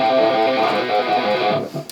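Distorted electric guitar plays a fast trill on the 5th string in a metal riff, a buzzing sustained figure that cuts off abruptly near the end, followed by a few faint noises.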